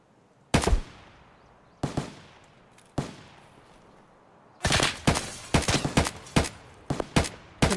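Gunfire in the shooter game Escape from Tarkov: three separate loud shots with ringing tails, then a rapid cluster of bursts that grows denser toward the end, with no talking.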